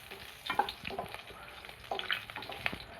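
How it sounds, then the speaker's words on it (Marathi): Cumin, mustard seeds, garlic and green chillies fry in hot oil as a tempering for an eggplant vegetable dish. The faint, close sizzle comes with intermittent stirring scrapes and taps. "पहिले जिरं टाकलं, मोहरी, लसूण, हिरव्या मिरच्या. आता ते मिश्रण करून घ्यायचं."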